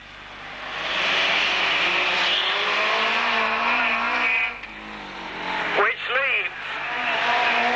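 Race cars in a 30-lap auto club race at the Braintree Auto Club meeting, 1991, roar past near and loud with rising and falling engine notes, a sharp swooping pass near the end, while a commentator talks over them.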